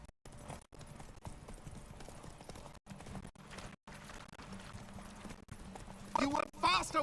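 Geralt's horse Roach gallops in The Witcher 3 with rapid rhythmic hoofbeats that fall silent in several brief gaps, while people talk over the game.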